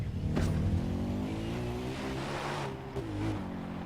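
A car driving in Far Cry 4 gives a steady engine drone with shifting pitch as it travels, heard fairly close with a couple of brief whooshes and knocks.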